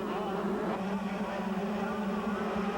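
A pack of 125cc motocross motorcycles roars off the start at a 1995 national championship round, a dense, continuous buzzing engine drone from many bikes at once, loud and steady, with an announcer faintly underneath.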